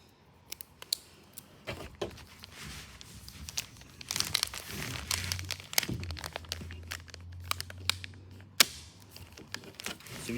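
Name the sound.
plastic wrap crinkling while wrapping a pipe packer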